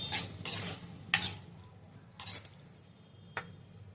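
Chopped tomatoes stirred in a cooking pan with spice paste for a raw cashew curry, a soft, quiet scraping and squishing with a few sharper spoon clicks against the pan, alone and fairly faint.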